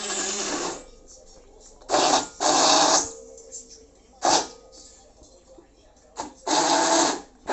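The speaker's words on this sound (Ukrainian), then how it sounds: "Забиваю блендером сметану." An electric blender whips sour cream with sugar in several loud bursts of a few seconds each, switching on and off with quieter gaps between.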